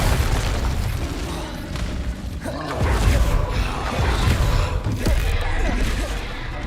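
Booming fiery spell blasts crash and rumble in the video game Hogwarts Legacy, with several heavy explosive hits layered over continuous rumbling and voices heard through the mix.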